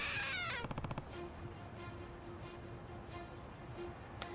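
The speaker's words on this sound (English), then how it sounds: "if you ever hear it meowing, it means somebody popped it open and is probably stealing something" A cat-shaped safe in the Lost Judgment video game gives a drawn-out meow, followed by soft game ambience with a steady faint tone and a few light clicks.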